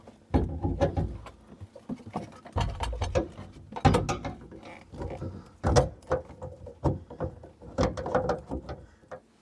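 An Insinkerator Badger 5 garbage disposal is lifted and twisted onto its sink mount, giving irregular close metallic clunks, scrapes and ratcheting clicks throughout.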